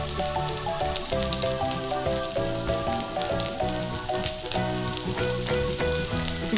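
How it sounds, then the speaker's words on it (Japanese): Udon gyoza, dumplings made with udon in the Takatsuki style, sizzle loudly and steadily in a frying pan after being flipped, a dense crackling hiss that runs throughout with music playing underneath. "ひっくり返したところで蓋をして蒸し焼きにしていきます"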